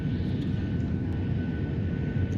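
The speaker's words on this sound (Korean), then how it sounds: "비행기는 제주도에 무사히 착륙했다." An airliner landing on Jeju Island, heard from inside the cabin as a steady, loud, low engine roar and rushing hum with a faint whine above it, continuous and unbroken throughout.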